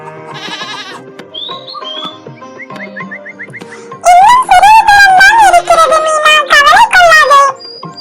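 Animated lamb bleats in a cartoon, several high wavering cries in the latter half, loud and close, following lighter musical sound effects; the bleats may be voiced by a performer.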